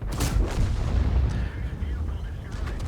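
A KV-2 heavy tank's big gun fires in the World of Tanks video game, a sharp booming blast at the start followed by rumbling battle noise and a few more distant shots.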